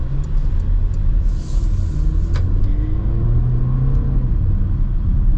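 A 2025 Porsche Macan in Sport Plus mode gives a loud, steady engine rumble from inside the cabin, with the drone rising in pitch as it accelerates, heard alone without talk.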